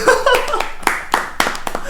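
A few people clap by hand in a small television studio for a talk show, giving short, uneven bursts of claps that overlap with laughter and chatter.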